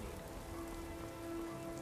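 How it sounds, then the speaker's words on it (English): Steady rain falls in Skyrim, a dense, even hiss of drops on surfaces that holds close and unbroken throughout, with a faint constant tone running beneath it. "It's raining."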